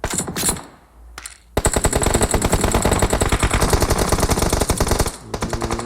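Automatic weapon fire in a PUBG match rattles in long, rapid bursts, loud and close, with a short pause before a sustained volley and a few scattered shots trailing at the end.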